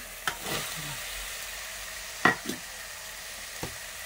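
Washed spiny gourds go into a little hot oil, giving a soft sizzle with a few sharp clatters and splashes as they drop into the pan.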